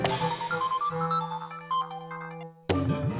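A mobile phone ringtone plays a loud melodic tune, stops briefly, then starts ringing again near the end.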